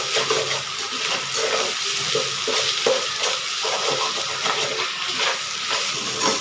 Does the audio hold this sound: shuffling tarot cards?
no